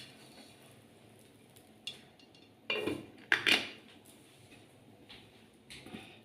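Metal lid clanks onto a bhakhri pizza pan: a light clink near 2.7 s, then a sharper double clatter around 3.4 s, with a faint scrape later, over quiet kitchen background.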